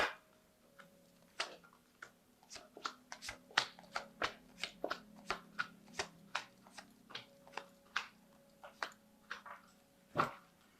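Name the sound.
shuffling a tarot card deck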